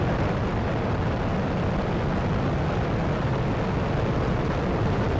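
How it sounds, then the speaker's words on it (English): Space Shuttle Endeavour's boosters ignite and lift off in a dense, crackling roar: loud, broadband and unbroken, a constant rumble with no voices over it. "Booster ignition and liftoff of Shuttle Endeavour"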